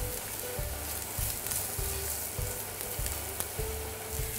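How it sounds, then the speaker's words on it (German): Tomato paste and flour frying with butter and onions in a pan, a steady close sizzle with soft rhythmic stirring scrapes, no voices. "Als nächstes gebe ich jetzt Tomatenmark und Mehl dazu. Das wird jetzt auch nochmal etwa eine Minute mitgebraten."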